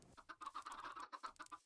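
Chickens in the Minecraft video game cluck in a quick, choppy series of short calls, close but faint, with no talk over them.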